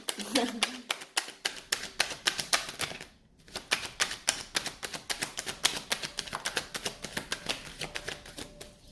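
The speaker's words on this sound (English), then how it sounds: "This is the last shuffle." Rapid, rhythmic tarot card shuffling, a long run of crisp riffling clicks close by with one short pause partway through.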